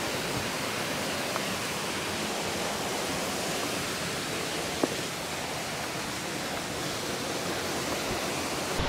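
Waterfall in Valle del Lunarejo, Cascada del Indio or Cascada Grande, roaring as a steady, dense broadband rush of falling water that holds unchanged throughout, close and loud, with only a couple of faint clicks over it.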